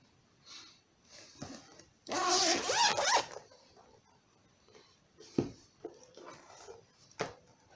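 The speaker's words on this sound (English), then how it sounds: "The product has a zip closure, as I said here, and we'll have a look on the inside." A zip closure on a Delmon Varone XXXL A4 folio is pulled open in one long, loud rasping run, followed by fainter handling rustles and soft knocks of the folio.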